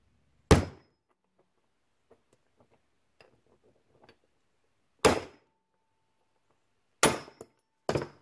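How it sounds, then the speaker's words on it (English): A hammer strikes a socket to knock the old trunnion sleeve out of an LS1 rocker arm from a 5.3 engine, four sharp metallic blows spaced apart with faint small clinks between. "And just take the hammer,"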